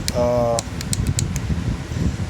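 A small Woodland Scenics ballast vacuum runs with a steady, whirring fan noise, close by, with a few clicks at the start and faint talk underneath.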